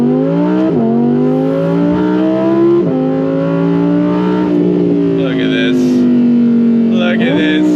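A modified Audi R8 Performance engine pulls hard through the gears, its pitch climbing steadily then dropping at each shift, loud and close with a voice cheering.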